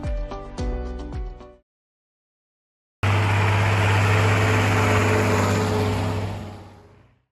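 Chongqing Cummins KTA19-C450 industrial diesel engine, rated 450 horsepower at 2,100 RPM, running steadily with a loud, even drone after a gap of silence, preceded by a few brief sharp knocks.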